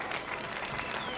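Crowd at a St. Patrick's Day parade in Philadelphia applauds Irish dancers marching by, a dense, steady wash of clapping throughout, with no pauses or voices standing out.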